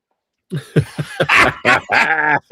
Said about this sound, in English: I got a puppy here who's up to no good.